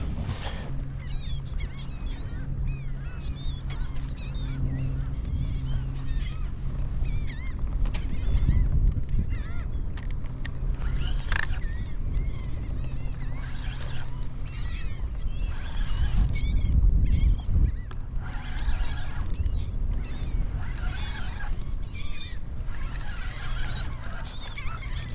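A flock of seabirds calls continuously while feeding over schooling striped bass and scup breaking the surface at sunrise, with a steady low boat engine hum underneath.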